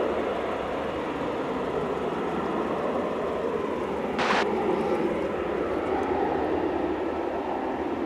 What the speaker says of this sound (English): That was American Flight 524 coming in from LAX, Airbus A321.